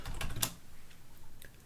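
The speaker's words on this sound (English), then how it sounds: "so I'm going to type it in here." A few faint, quick keystrokes on a computer keyboard at a desk, clustered at the start and followed by near quiet.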